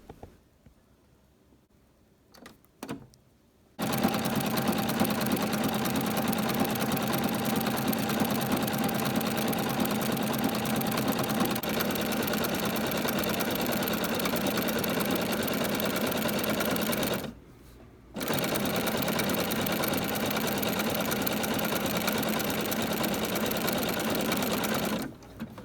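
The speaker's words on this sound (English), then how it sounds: "I decided to do a decorative embroidery stitch on either side of the two seams that are on the table runner." A sewing machine stitches a decorative embroidery pattern beside the seams of a table runner, running in a steady loud mechanical whir for about twenty seconds with one short pause midway.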